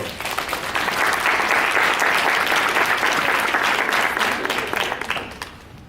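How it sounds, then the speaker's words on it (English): Audience clapping at an education summit, a dense steady round of applause that swells quickly, holds loud and full for several seconds, then thins and fades near the end. "Can we do a snap for her real quick, or a clap?"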